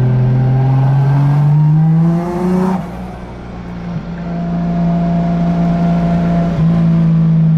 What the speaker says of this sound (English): I'm going for a quick drive because it doesn't have no passenger seat in here.